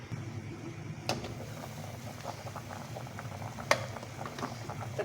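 Potatoes and meat simmering under a lid for aloo gosht, a soft irregular bubbling and popping that continues steadily, with two sharp knocks of the lid or pot.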